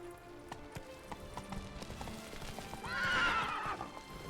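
Roach, the horse in The Witcher 3, clip-clops at a steady walking rhythm on the ground, then gives a loud whinnying neigh near the end.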